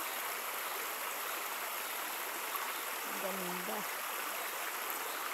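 A rocky stream rushes in a constant, full, hissing flow close by, with a single brief spoken word surfacing faintly through the water noise.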